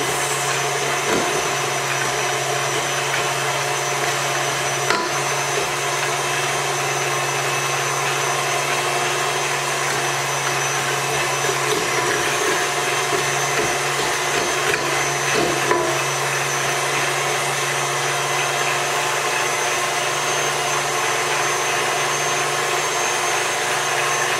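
Electric mixer creaming butter and sugar for gingerbread cookie dough, a steady close motor whir running unbroken throughout with a constant hum and a few faint bumps.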